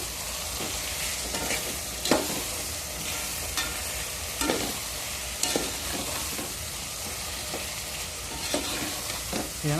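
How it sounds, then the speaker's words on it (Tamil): Chili powder frying in oil in a pan for a bottle gourd curry, a steady close sizzle broken by repeated scraping and clinking of a spoon as it is stirred, no voices. "அப்படியே லைட்டாக ஒரு கிண்டணும்."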